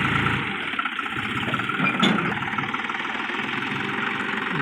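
A loaded four-wheel-drive farm vehicle, with four-wheel gear engaged, climbs with its engine droning steadily and loudly throughout, a brief surge near the middle, no talking over it.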